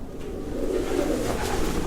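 Pigeons coo in a low, murmuring chorus inside an abandoned building under a large skylight, their steady throaty calls filling the space at close range with no talk.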